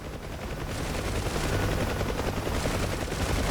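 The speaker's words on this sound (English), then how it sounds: "And we are now shooting" Huey helicopter minigun firing in DCS World, a loud, sustained buzzing stream of rapid shots over the steady drone of the rotor and engine.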